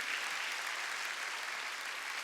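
A church congregation at a Wednesday worship service claps together in a steady, even wash of hands, moderately distant and without any voices over it.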